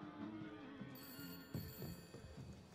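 A telephone rings inside a building in the video game Far Cry 5, a steady high ringing tone over a low game soundscape and fairly quiet.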